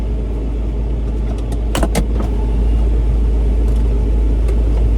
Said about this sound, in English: Listen to the flat 6.